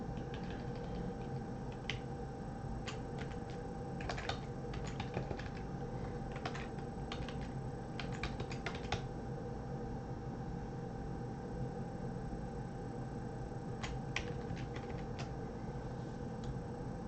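Fast computer keyboard typing while editing a list of eBay IDs in a spreadsheet, heard as irregular bursts of crisp close keystrokes separated by brief lulls, with no talking over it.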